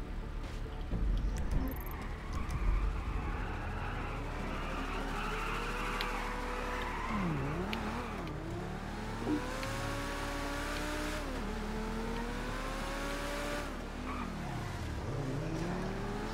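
Engine of a Lamborghini sports car in the video game GTA V, a steady revving drone with rising and falling pitch sweeps as it accelerates and skids, tires squealing briefly, continuous and fairly close.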